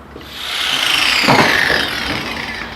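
A power tool cuts through Discovery 1 wheel arch bodywork and a bolt, giving a loud, continuous grinding whine close by that rises in pitch and strains for a few seconds.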